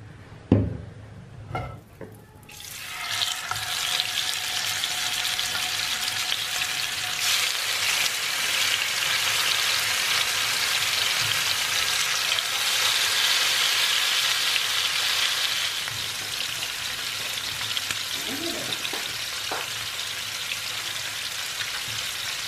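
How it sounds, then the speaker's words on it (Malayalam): Karimeen, pearl spot fish, fries in hot coconut oil in a pan. A few knocks at the start lead into a loud, sustained sizzle that holds steady throughout, with no voices. "അപ്പം നമ്മൾ കരിമീൻ ഫ്രൈ ചെയ്യാൻ പോവാണ്."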